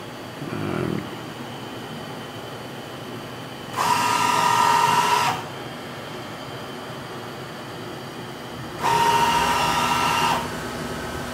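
Hardinge CNC lathe spindle spinning up for a barrel tenon job in a shop, a whining hum in two separate bursts of about one and a half seconds each, over a constant low machine drone, with no talk.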